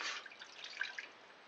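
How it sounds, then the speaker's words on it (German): Water from a glass pours into a cooking pot outdoors, a short soft splashing trickle that fades out within about a second, with no talk. "Wir füllen jetzt ein Glas Wasser in den Topf."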